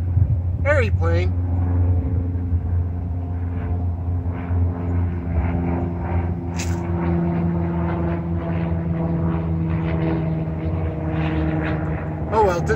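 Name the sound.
airplane flying overhead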